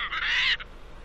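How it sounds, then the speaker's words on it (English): A cartoon parrot squawks once in a Dora the Explorer PC game, a short, loud, harsh burst lasting about half a second, then fading into quiet background. "Is it a squawking parrot or a talking parrot?"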